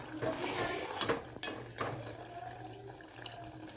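Water running from a tap into a cooking pot in a home kitchen, a steady rushing splash with a few clanks of the vessel, fairly close, while people talk nearby.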